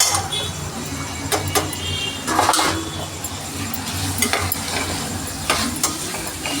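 Tomato, onion, potato and beans sauté in a pan for vegetable biryani. Loud, close sizzling runs under repeated clattering stirs of a utensil against the pan, with scattered sharp metallic taps.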